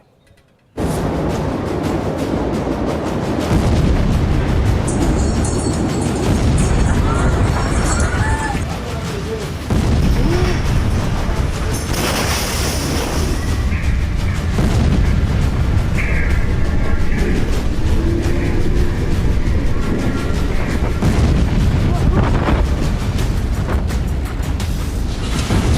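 News footage of the Beirut explosion: after a brief hush, a huge roaring blast rumbles on, loud and sustained, with a second heavy surge midway and shouting voices mixed in as the roar continues.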